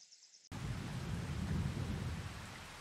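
Steady rain falls in Farming Simulator 22 on a cold October morning at a pig farm, a dense broadband downpour that starts abruptly after a short quiet moment and holds at an even, close, fairly loud level with no talking.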